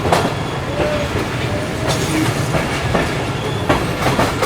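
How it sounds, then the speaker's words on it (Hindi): The Karakoram Express, running in a new rake between Karachi and Rohri, rolls along with a steady broad rumble, faint wheel clatter and a brief squeal; heard from aboard or close by, with no voices. "वो देखिए हमारी ट्रेन का लोकोमोटिव कहाँ घूम रहा है"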